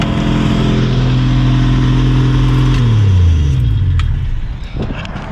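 A 1965 Ford Mustang's engine runs far too fast on a badly adjusted carburetor, a loud steady droning idle that holds high and then drops in pitch as the revs fall near the end.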